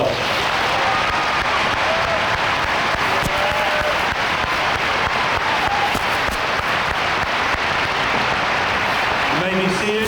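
Audience applauding at a graduation ceremony, a loud, dense, continuous wash of clapping from a large crowd that fills the whole stretch, with a voice coming in near the end.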